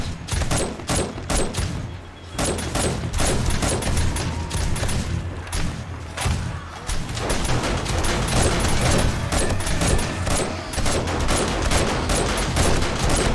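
Rapid, sustained gunfire from 7 Days to Die fills the whole stretch, dense volleys of shots with thuds underneath, loud and close, with only a brief lull near the two-second mark and no talking.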